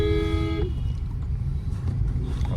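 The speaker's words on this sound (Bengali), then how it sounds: "রাস্তায় খুবই জ্যাম" Cars crawl through a heavy traffic jam on a city road. A car horn blares for about half a second at the start, then a steady low rumble of idling and slow-moving vehicles continues.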